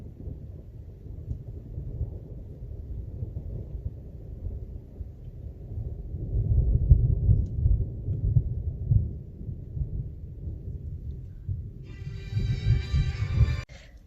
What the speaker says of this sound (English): there's a distant roar of thunder